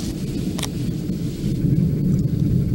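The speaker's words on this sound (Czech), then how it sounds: "Tyjo, bouřka, že?" Low rolling thunder from a thunderstorm rumbles continuously outdoors, a fairly faint, broad murmur that swells slightly toward the end, with wind buffeting the microphone.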